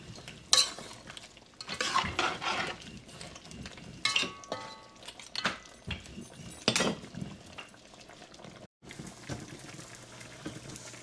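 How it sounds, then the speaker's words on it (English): Duck curry stirred in a pot, a spoon scraping and clinking through thick, bubbling liquid in uneven strokes with a faint sizzle beneath, close and fairly loud, with a short silent gap near the end. "So we're gonna give the curry a turn now."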